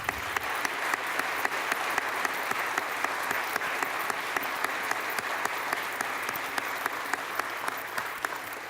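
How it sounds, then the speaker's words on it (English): An awards banquet crowd honoring Teacher of the Year recipients gives a sustained round of applause, heard as even, moderately distant clapping with a few sharper claps standing out and no voices over it. "And let's give these people a round of applause."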